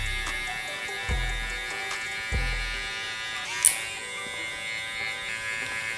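Electric hair clippers buzz steadily at close range during a buzz cut fade at a barbershop, a continuous hum with a few soft knocks and a brief sharp click partway through.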